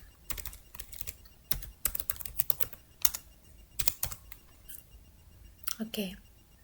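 Typing on a computer keyboard while configuring network routers, with sharp close key clicks in quick irregular bursts and pauses, and a soft voice murmuring in places.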